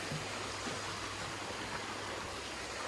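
Stream water on the Appalachian Trail rushes steadily and close by, a constant broad wash of flowing water with no voices over it.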